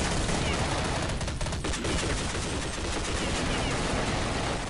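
Automatic gunfire in Counter-Strike Online: a dense, continuous rattle of rapid shots that fills several seconds, loud and unbroken.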